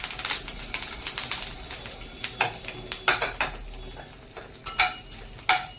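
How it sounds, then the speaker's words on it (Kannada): Star anise, cardamom, ginger, garlic, Byadgi chili and curry leaves fry in a pan for mushroom ghee roast, with a soft steady sizzle broken by sharp scraping stirs and clinks of a spoon against the pan. "ಸ್ವಲ್ಪ ಕಂದು ಬಣ್ಣ ಬರೋವರೆಗೂ ಫ್ರೈ ಮಾಡ್ಕೊಳ್ಳೋಣ"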